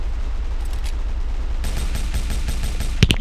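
Gunfire in the video game GTA V: a rapid series of loud, sharp shots with a heavier burst near the end, close and dominant, with no voices over it.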